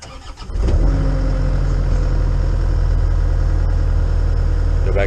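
A Takeuchi TL6R skid steer's engine cranks briefly and catches, then settles into a loud, steady, low idle close by that runs to the end.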